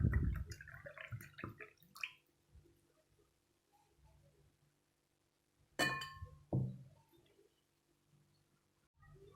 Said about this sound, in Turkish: Meyve suyumuz soğuduktan sonra bardaklarımıza servis yapalım.